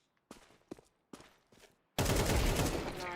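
Gunfire in a Counter-Strike match: a few scattered close shots and clicks, then a sudden dense loud burst of rapid automatic fire that keeps going to the end.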